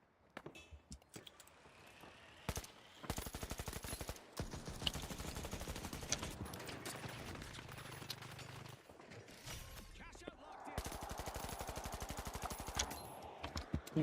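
Sustained automatic gunfire from The Finals video game, dense rapid bursts running through most of the stretch with brief pauses between volleys, loud and close, with mechanical clatter mixed in.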